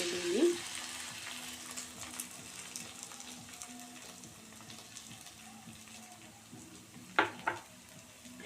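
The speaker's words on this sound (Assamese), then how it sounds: "এয়া আপোনালোকে দেখিবলৈ গৈছে লাফুখিনিৰ প্ৰায় ভাজি লাগি গৈছে।" Dried mushrooms fry in a pan with a soft, steady sizzle, faint and close, broken by a few light clinks and scrapes near the end.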